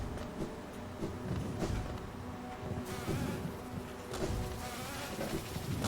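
Bees buzz continuously in the hive area of the video game Hollow Knight, a dense, steady droning swarm with slight swells in intensity and no speech over it.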